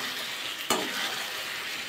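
Fried whole brinjal is stirred in poppy seed masala in hot oil, a close, steady sizzle with one sharp scrape of the spatula against the pan partway through.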